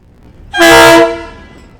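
DBR locomotives 1199 and 1282 arriving with a train give one loud, close horn blast of about half a second, which rings briefly and fades into quiet.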